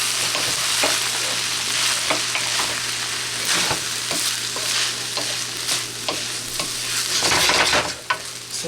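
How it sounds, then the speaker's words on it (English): Fried rice being stirred in a hot pan, with a continuous close sizzle broken by repeated scraping and tapping strokes of a utensil against the pan, plus a low steady hum beneath, no speech. "This is something we have to continue to stir and taste as we go."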